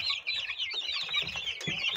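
A flock of egg-laying chickens clucks and chatters continuously up close while eating, overlapping calls forming a busy, steady murmur with occasional sharper squawks.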